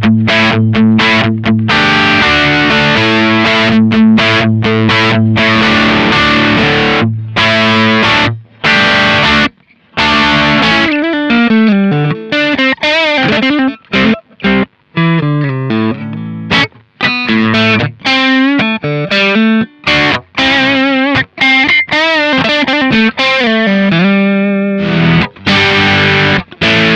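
Distorted electric guitar played through a Kemper amp profile with gainy grit, loud and continuous riffs and sustained chords with brief gaps, heard alone without talk.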